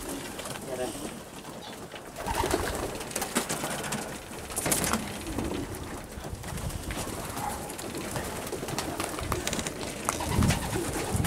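Breeding racing pigeons coo in a corner aviary, soft repeated coos set in a steady bed of background noise, with bursts of louder rustling.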